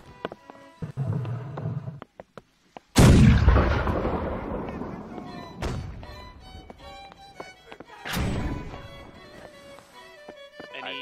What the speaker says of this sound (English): I'm firing some chain shot from the cannon grenades